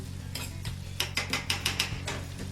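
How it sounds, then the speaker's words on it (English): A spoon scrapes and clinks through meat in a pan for a burrito bowl, a quick run of sharp metallic strokes bunched in the middle over a low steady kitchen hum, close and moderately loud. "Stir the meat"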